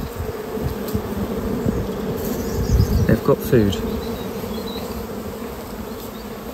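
Honeybees buzz steadily in a dense swarm around an open hive close by, with a brief spoken remark partway through.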